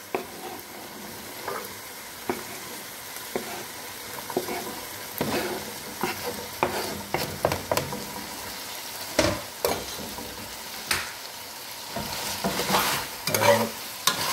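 Vegetables sear in a hot pan for Jamaican curry chicken, with a steady sizzle under repeated scraping and clattering stirs of a spoon that come in uneven bursts, close and fairly loud.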